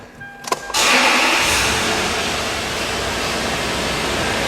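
A 2004 Toyota 4Runner raised up in the air cranks briefly and catches, then settles into a loud, steady running engine with a broad even rumble that holds to the end.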